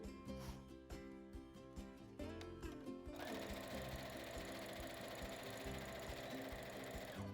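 A sewing machine stitches a seam, starting with a few slower separate runs of the needle and then settling into a fast, steady, close whir.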